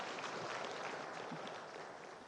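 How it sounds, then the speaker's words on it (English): Steady applause from a lecture audience at the Bank of Ghana 60th anniversary event, with dense, continuous clapping that holds even and fairly quiet before easing slightly toward the end. "how about a round of applause for all these regional banking organizations and central banks"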